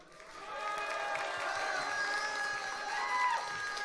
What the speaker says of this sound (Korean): 여러분들 박수 많이 쳐주실 것 같고요